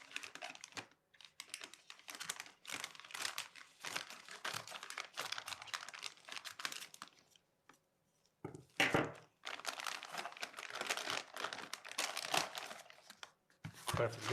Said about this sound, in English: If it's still sealed, please cut it open with your scissors.